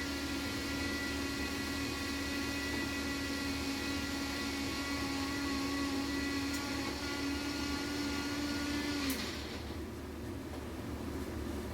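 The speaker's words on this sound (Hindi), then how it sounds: "यहाँ पे मैं प्याज को पीस ली थी अच्छे से" An electric mixer grinder pulverizing onion in a home kitchen, a loud steady whine with a sustained motor hum running continuously for about nine seconds before cutting off, leaving faint room noise.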